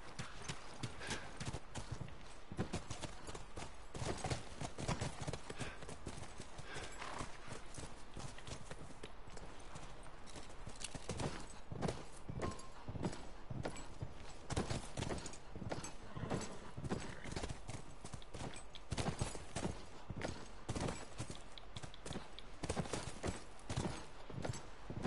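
Horse hooves clip-clop in a steady, even rhythm in the video game The Last of Us, fairly quiet and continuous for the whole stretch, with no other sound standing out.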